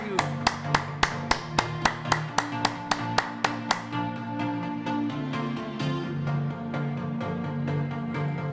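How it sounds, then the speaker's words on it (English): Applause at a wealth masterclass gathering: a run of sharp, regular claps up front, then thinning into a softer, blurred patter with low murmuring underneath. "can we give our Centurions a really big round of applause?"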